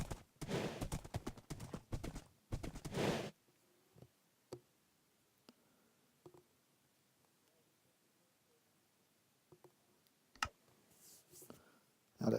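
In a horse racing video game, galloping hooves clatter in a fast, loud clip-clop for about three seconds. Then it goes mostly quiet, with scattered sharp clicks and a few soft thuds.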